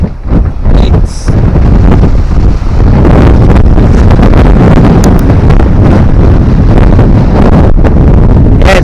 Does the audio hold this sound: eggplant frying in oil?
no